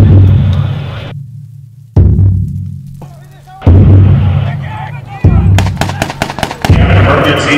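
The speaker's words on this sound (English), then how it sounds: "In this case, there's a gunfight going on above" Gunfire during a police active shooter training exercise in Miami: a quick series of sharp, loud reports near the end, over a steady low rumble and background noise.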